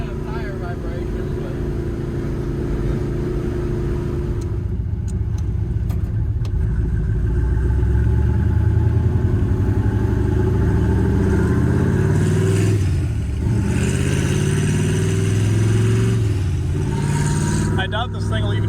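A 1965 Corvette barn find runs on new tires with a slight tire imbalance. Its engine gives a steady, loud, close cabin drone with a deep rumble that rises and falls, while people talk over it.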